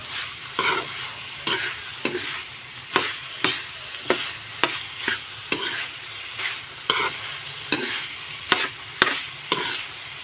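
A spoon scrapes and clacks rhythmically against a pan about once a second as pork giniling with potato, carrot and tomato sauce is stirred over a constant low sizzle.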